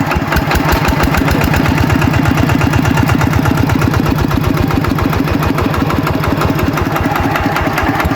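A walking tractor's engine runs steadily close by, a loud, continuous rapid chugging thump with a rough mechanical rattle and no break in the rhythm.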